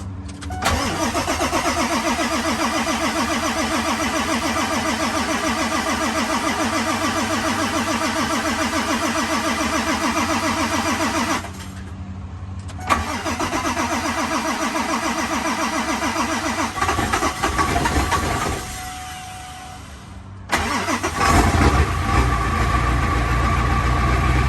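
A Ford 7.3 Powerstroke diesel cold-starts and runs with a loud, close, clattering idle, cuts out briefly, then restarts and runs again before shutting off; a separate rumbling follows at the end.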